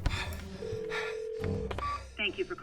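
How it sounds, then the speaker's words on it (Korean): Telephone keypad DTMF tones beep in a quick sequence as a call is placed to a former workplace from a cramped underground space, with voices and other sounds in the background. "자신이 근무하던 회사로 다시 전화를 겁니다"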